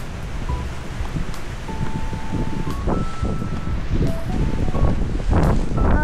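Wind gusts across a lakeside resort in Talisay, Batangas, a steady broadband rush buffeting the microphone throughout, with faint tonal sounds and distant activity underneath.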